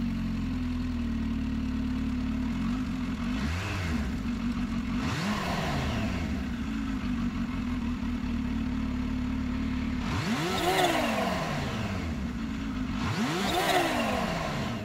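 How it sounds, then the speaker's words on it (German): A Kawasaki Ninja H2 SX supercharged motorcycle engine idling steadily close by, broken by four throttle blips that rise and fall in pitch, with a raspy intake note throughout. "Jetzt werden wir mal diesen Motor anstarten, der klingt nämlich wirklich schon sehr beeindruckend, röchelt echt"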